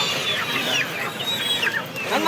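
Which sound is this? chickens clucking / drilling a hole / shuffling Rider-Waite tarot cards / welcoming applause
chickens clucking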